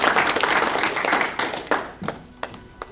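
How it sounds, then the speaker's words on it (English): Audience applause after a presentation, a dense wash of clapping that thins out and breaks into a few scattered claps toward the end. "Let's give them a round of applause"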